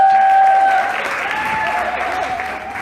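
Sustained audience applause as a guest is welcomed to an interview event, dense steady clapping filling the space with a faint sustained tone and little talk.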